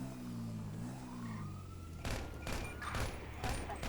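Sniper rifle fire in Grand Theft Auto V cracks out as a string of loud, sharp reports in fairly quick succession, following a stretch of engine hum and a voice, with a steady background drone throughout.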